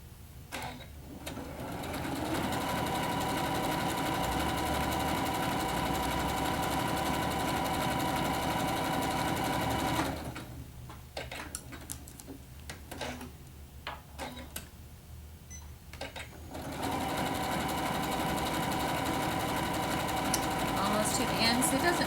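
A sewing machine stitches an applique block in fast, steady ticking bursts, running continuously, pausing while a voice speaks briefly, then resuming at close range.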